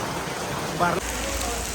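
Floodwater rushing fast during a severe monsoon flood, a continuous broad rushing wash that deepens into a heavier low roar partway through.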